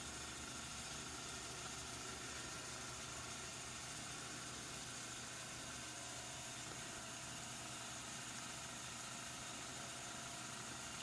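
A small tumbler turner motor spins an alcohol ink tumbler, giving a steady, faint mechanical hum with even vibration throughout and no voices.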